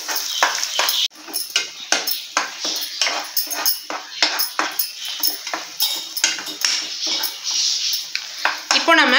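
Ground masala stirred in a metal pan for an egg curry, a string of quick sharp scrapes and clinks from the spoon against the pan, repeating briskly and loud with no voices.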